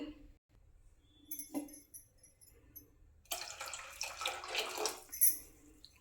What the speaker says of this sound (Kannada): ಇನ್ನೊಂದು ಸ್ವಲ್ಪ ನೀರು ಹಾಕ್ಕೋಬೇಕು.